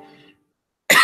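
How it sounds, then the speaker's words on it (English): A single sharp cough bursts out loud and close at the very end, after a brief murmur of speech and a moment of silence. "Sorry, I didn't plan to start with a cough,"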